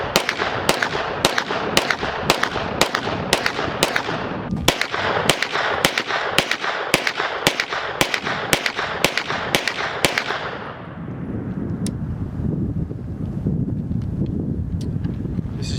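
A Stribog SP9A3s 9mm pistol fires a steady string of about eighteen sharp, loud shots at a brisk, even pace, then the shooting stops and only outdoor wind noise remains.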